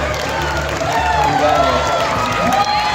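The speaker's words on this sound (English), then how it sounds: "Give him a round of applause for our second place handmade category." A crowd at a cosplay contest at the Midwest Gaming Classic in Milwaukee applauds and cheers continuously, with loud clapping and shouts from many people filling the space.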